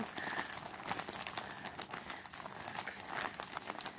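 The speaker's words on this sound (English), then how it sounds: "Makes a great sound though. I really do enjoy crinkling noises." Packaging is crinkled close up in a continuous rustling stream of crisp, crackly crumples that vary in intensity, with no talking.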